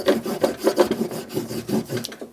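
Zam honing compound being rubbed onto a leather strop, a steady dry rasping scrape in repeated back-and-forth strokes, close and fairly loud with no talking.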